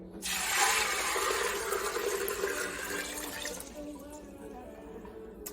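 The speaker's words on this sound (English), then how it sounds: "So I'm gonna go ahead and pour the water in." Water pours steadily into a cooking pot for stewed red beans, a continuous splashing gush that starts abruptly, stays loud and close, then gradually thins and quiets as the pour tapers off.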